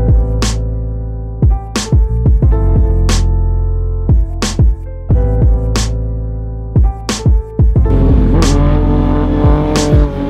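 A car near a roadside spot drives past with sharp, repeated revving bursts and crackling shifts, loud and close, with a rougher engine roar building toward the end.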